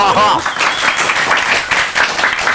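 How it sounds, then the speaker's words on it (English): Studio audience on a crossword game show clapping on cue, a lively burst of many hands that rises and falls in pulses, with people talking over it. "We need that clap sign for them. Just a little clap."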